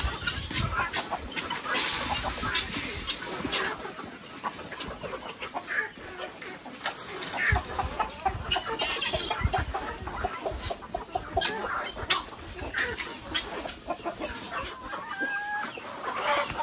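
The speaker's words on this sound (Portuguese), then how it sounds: "Agora eu vou buscar o trato das galinhas, tá?" Chickens on a small farm cluck and chatter busily while being fed, many birds calling at once close by, with occasional louder squawks and no talk.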